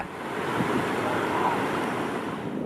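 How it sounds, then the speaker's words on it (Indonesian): Continuous roar of surf waves breaking at Batu Bolong beach in Canggu, Bali, a steady wash of rushing water with some wind noise on the microphone. "Di Pantai Batu Bolong Canggu ini banyak wisatawan yang surfing."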